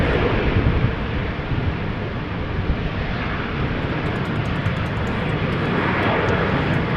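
A KM Malta airliner roars past at an airport on a wet, windy day, its broad engine rumble loud and steady throughout with gusting wind noise.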